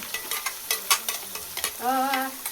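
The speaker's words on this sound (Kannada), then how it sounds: "ಇದು ಫ್ರೈ ಆಗ್ತಾ ಇದೆ. ಇದು ಫ್ರೈ ಆಗಬೇಕು." Onion paste frying in a pan with constant stirring: scraping strokes of a spoon against the pan over a steady sizzle that swells near the end, close and fairly loud, with no voices.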